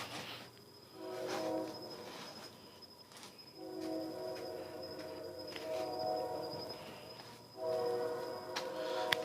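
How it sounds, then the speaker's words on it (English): A train passes near a wooded Florida backyard at night, its rumble continuous while the horn sounds three long, faint-to-moderate blasts spaced a few seconds apart. "A lot of train activity tonight. Surprising amount of trains coming around."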